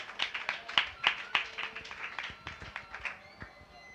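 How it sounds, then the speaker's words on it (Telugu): A church congregation claps their hands together in praise, a quick run of sharp, overlapping claps at moderate distance that thins out toward the end. "చప్పట్లు కొట్టి దేవుని నామాన్ని మహిమపరుద్దాం"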